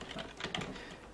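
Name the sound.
typing commands on a computer keyboard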